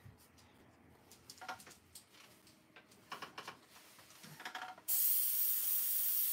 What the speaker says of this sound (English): I don't have my hair dryer, but I'll use the airbrush.